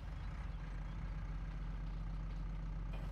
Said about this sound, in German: Ja, Motor starten.